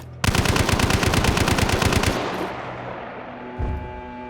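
A jury-rigged full-auto Mosin rifle in the video game Hunt: Showdown fires a rapid, loud burst of about two seconds, followed by a fading echoing tail and one brief later thump.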